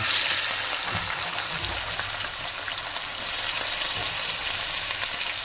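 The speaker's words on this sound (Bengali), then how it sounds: "এবারে আমি এই তেলেতেই দিয়ে দেব উচ্ছে। উচ্ছেটাকেও খুব সুন্দর করে ভেজে নেব।" Sliced bitter gourd frying in oil in a pan, a loud, steady hissing sizzle close up throughout, with no talking.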